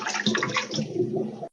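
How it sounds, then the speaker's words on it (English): Water is poured out of a fish tank in a steady, loud, splashing gush that runs for about a second and a half and then cuts off abruptly. "I was dumping water out of a fish tank."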